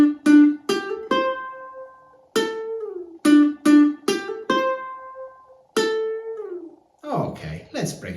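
A ukulele picks out a simplified version of a song's riff with hammer-ons and a slide, plucked single notes ringing out in a repeating pattern, close and clear, ending in a brief strum.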